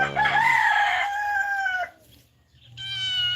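A rooster crows loudly on a farm, holding a long drawn-out call before pausing, then starting another crow, with some clucking and faint background noise beneath.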